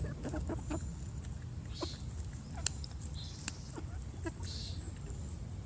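Four-month-old chickens clucking and giving soft, deepening chortles, a scattering of short calls over a constant low background hum, fairly quiet and close.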